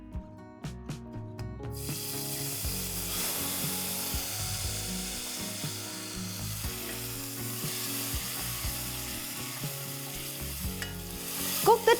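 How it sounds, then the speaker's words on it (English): Grated tomatoes sizzle and fry steadily in a pan for pepper rasam, a continuous close frying hiss with scattered stirring scrapes and a couple of sharp clinks near the end. "Cook the tomatoes for at least a good 4 to 5 minutes"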